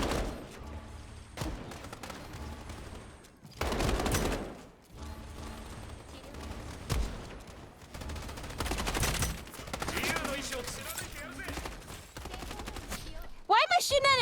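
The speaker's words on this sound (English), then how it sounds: "Why am I shooting at a turret like that?" Video game gunfire aimed at a turret crackles in repeated bursts of shots, separated by short pauses, with mechanical clatter between them.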